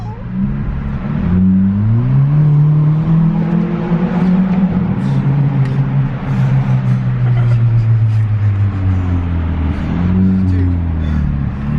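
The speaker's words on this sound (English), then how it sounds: "That's a fast vehicle." A Hyundai Veloster accelerating hard, its engine droning and rising through gear changes for several seconds, loud and steady from inside the car while people talk over it.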